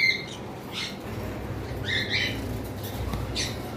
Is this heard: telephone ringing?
no